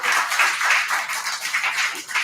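Applause from an open-mic poetry crowd as the next poet is called up, a dense, swelling wash of many hands clapping at close range and fairly loud, rising and falling in waves.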